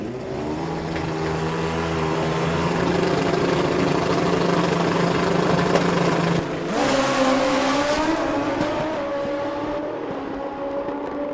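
Nitrous and turbo drag race cars at a motorsport event, a loud sustained engine roar that holds steady before a sharp shift and continues powerfully, with no talk over it.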